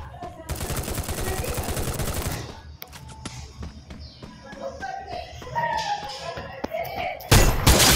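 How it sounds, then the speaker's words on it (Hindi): Automatic gunfire rattles in a battle royale video game, a sustained loud burst followed by scattered shots and thuds, then a final sharp burst at the end, with a voice speaking over the action. "अरे कहाँ से फायरिंग कर रहा है सर?"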